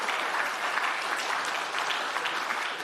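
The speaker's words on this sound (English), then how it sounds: "What about a round of applause for Julie and Aaron?" An audience at the 2026 Fieldays Innovation Awards applauds in a dense, even wash of clapping that holds steady throughout.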